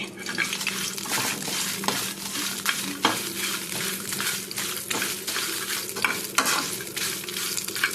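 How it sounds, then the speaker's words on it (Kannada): Spices with chillies fry in a pan for a jackfruit curry, giving a steady close sizzle broken by frequent scraping stirs of a spoon, with no talking. "ಸ್ವಲ್ಪ ಫ್ರೈ ಆಗಲಿ"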